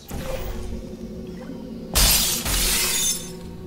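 Glass shatters in the video game Portal 2 after a landing on a glass surface, a sudden bright crash midway followed by a tinkling burst of breaking shards over a quiet game hum.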